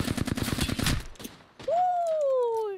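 Rapid automatic gunfire from the Apex Legends shooter rattles out in a fast, loud burst lasting about a second, followed by a short pause and then a sustained, falling electronic game tone.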